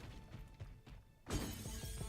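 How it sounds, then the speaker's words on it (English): In the video game Knack II, objects smash with a sudden loud crash partway through, followed by a sustained noisy rattle of breaking debris over steady game sound. "And now... smashing stuff."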